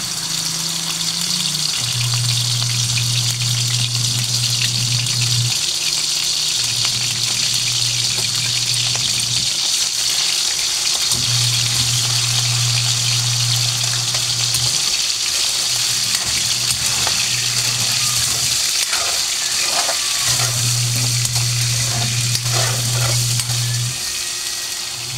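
Ground pork frying loudly in a pan for tofu sisig, a dense and continuous close-up sizzle with a low steady hum underneath throughout.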